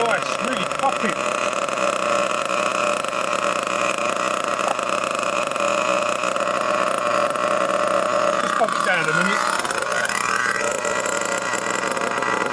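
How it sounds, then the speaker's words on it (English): A nitro RC car engine runs continuously with a steady, buzzing whine and a brief rising rev partway through, recorded close up in wind. "Engine sounds nice, really popping."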